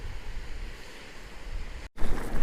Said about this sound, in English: that's some waterfall there is